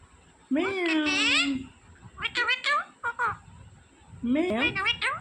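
A green parrot imitates a cat's meow with a drawn-out, wavering mewing call, followed by a few short chattering syllables and another meow, close and clear against a quiet background.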